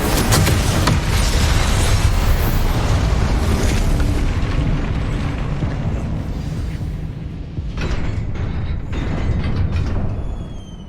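Spell blasts in the Hogwarts Legacy video game roar as a dense, loud, continuous rumble of explosive booms and crackling bursts, easing slightly near the end.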